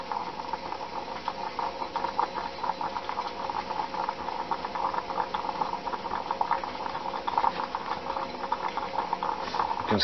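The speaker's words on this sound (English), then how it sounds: "There, the percolating is just about finishing." Coffee percolator bubbling near the end of its brew in an off-grid homestead kitchen, a steady gurgling, popping patter that carries on continuously at moderate volume without voices.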